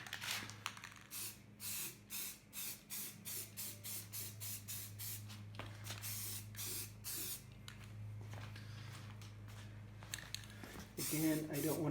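A lantern fount gets a color coat of spray paint in a quick series of short hissing bursts from an aerosol can, close and rhythmic, then a longer spray, with a quiet voice talking in the background.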